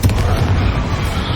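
Confringo fire spell blasting in the Hogwarts Legacy video game, a loud, continuous booming rumble heavy in the low end that holds steady through the whole short burst.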